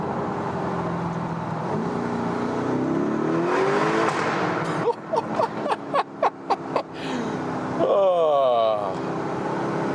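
A performance SUV engine revs hard after a downshift, a loud sustained roar followed by a rapid run of sharp bursts and a final rising rev, with a voice talking over the opening.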